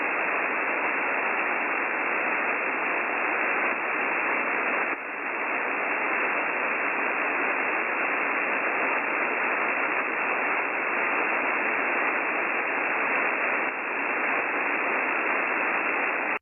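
A shortwave ham radio hisses with continuous band-limited static between transmissions, a dense, even wash of noise with slight fluctuations and no voices coming through.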